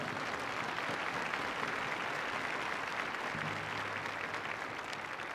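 Sustained audience applause in an indoor sports arena before a Japan versus Italy match, greeting the Italian national anthem soloist; dense, steady clapping fills the whole stretch with a faint low hum entering near the end.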